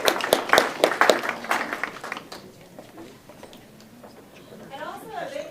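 Applause welcoming Dr. Karlfeld at a live biohacking and integrative medicine event: a short burst of fairly near clapping in the first two seconds that fades into quieter room sound with faint voices.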